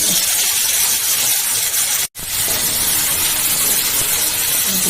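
Pointed gourd frying in hot oil with salt and turmeric, a steady loud sizzle and hiss that runs continuously, broken only by one brief silent gap midway.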